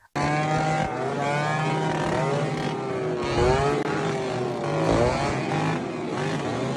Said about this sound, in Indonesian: ada sebuah knalpot yang bisa membuat telinga dan jantung hampir copot.